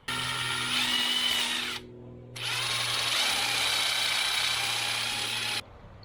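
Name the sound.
power drill drilling hole in kayak for wire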